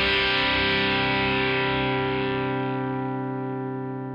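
Electric guitar on the bridge humbucker played through a Headrush Blues Driver overdrive effect, with a single sustained distorted chord that rings loud and then slowly decays, with no voices.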